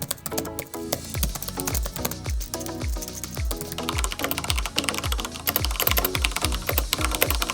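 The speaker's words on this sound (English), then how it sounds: "here's how loud it sounds compared to when I'm typing on my MacBook Pro" Fast typing on a Corsair K63 Wireless gaming keyboard, a close, loud, steady stream of clacky keystrokes with no voice over them.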